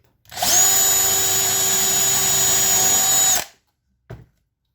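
Power drill boring a hole through a homemade copper PCB, a steady high whine held for about three seconds before cutting off, then a single short knock, all close and loud.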